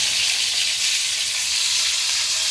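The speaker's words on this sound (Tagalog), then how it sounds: "nagpipirito po tayo ng isda" Pompano fish fries in hot oil for a breakfast meal, giving a loud, continuous sizzling hiss that runs steadily without pause.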